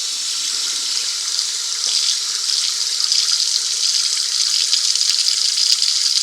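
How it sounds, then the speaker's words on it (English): Water runs steadily from a kitchen faucet in a Grey Wolf 22RR toy hauler, a constant close, bright hiss of flow with no voices. "We got the kitchen faucet."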